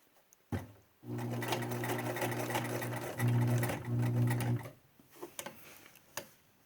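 A sewing machine runs steadily for several seconds while stitching a cloth face mask, with its motor hum and rapid needle ticking close up, a brief change in pitch midway, then a stop and a few scattered clicks.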